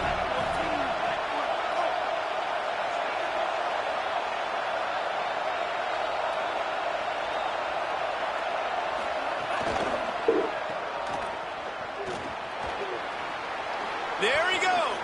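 A large American football stadium crowd at an NCAA game, a broad sustained roar of cheering that holds steady and swells near the end, with a commentator talking over it.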